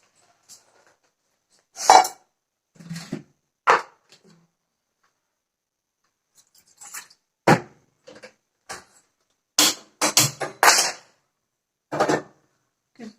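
Sporadic clinks and clatters of dirty dishes and pots being handled nearby in a home kitchen, in short bursts separated by quiet pauses, with no talking.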